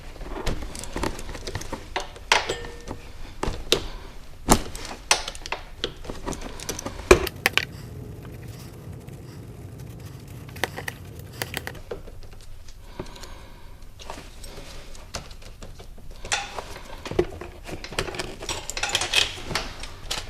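Metallic clinks, taps and rattling as a gear is worked off a Chinese ATV sprocket, scattered irregular knocks and scrapes up close over a low background hum, no talking.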